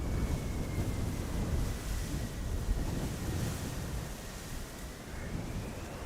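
A broad, steady roar of airliner thrust reversers during a crosswind landing at Amsterdam Schiphol, heard from a distance as a continuous rushing rumble blended with wind across the microphone, with a faint high whine running underneath.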